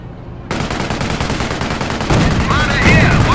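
Dense, continuous automatic gunfire from a Company of Heroes battle, loud and close, a steady rattling barrage that grows heavier midway, with faint voices mixed into the din.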